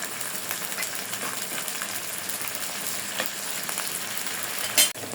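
Small shrimp fry in a pan with onion and garlic, giving a steady, close, broadband sizzle throughout, with a brief sharper clatter near the end and no talking.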